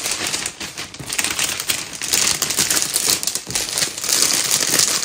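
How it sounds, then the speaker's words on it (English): Gift wrapped in cellophane, with loud, close crinkling and crackling that keeps going through the whole stretch in uneven bursts and has no talk over it. "what I'm going to do is just wrap it in cellophane"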